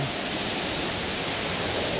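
A steady, broadband rush of falling water at Looking Glass Falls in Pisgah National Forest near Brevard, North Carolina fills the clip, constant and fairly loud with no breaks.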